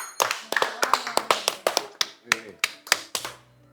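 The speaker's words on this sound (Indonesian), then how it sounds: "Tepuk tangan." Rhythmic hand clapping, about a dozen sharp, evenly spaced claps over a few seconds, close and fairly loud, with voices faintly underneath.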